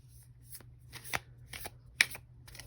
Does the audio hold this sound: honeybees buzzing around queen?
no